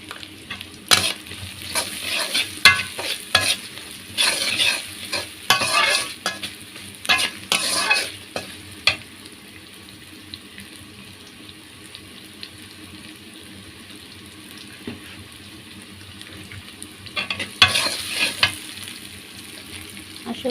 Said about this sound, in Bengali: আসলে লবণটা আগে দেওয়ার কারণ পেঁয়াজটা তাড়াতাড়ি হয়ে যাবে, মানে ফোড়ন হয়ে যাবে